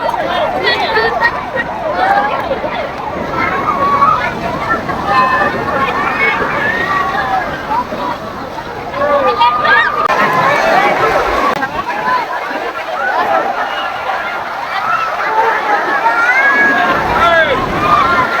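Sea waves on the beach at Puri wash in with a steady rushing roar under strong wind noise, while a voice talks over them and a crowd murmurs in the background.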